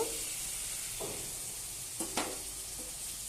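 Ginger-garlic paste masala, loosened with a splash of water, fries softly in a pan. A faint steady sizzle runs throughout while a spoon stirs it, with a few light scrapes and taps.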